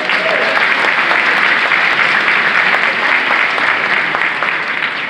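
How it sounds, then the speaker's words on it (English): Steady, loud applause from a crowd at the Bronx State of the Borough Address, a dense wash of clapping that holds evenly for several seconds without pause. "Let's give a big round of applause"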